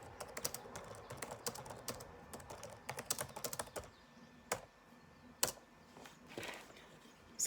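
Rapid typing on a computer keyboard into a chat, with close, crisp key clicks in uneven bursts and short pauses, then a few isolated taps toward the end.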